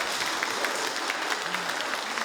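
A church congregation applauds the choir conductor after a hymn, a steady wash of clapping hands from a crowd filling the room at moderate loudness for the whole stretch.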